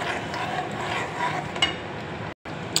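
Potatoes stirred with malai cream in a pan, soft scraping and gentle sizzling close by, a few brief clicks near the end, broken by a short moment of silence.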